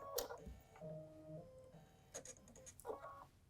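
Electronic needle threader on a sewing machine running after a button press, a quiet series of small mechanical whirs, clicks and ticks close by, with no voices.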